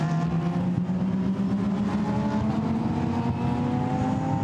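Lamborghini Super Trofeo race cars at the Nürburgring, engines droning loud and steady with a rising tonal whine as the pack builds speed, a continuous dense roar with no pauses.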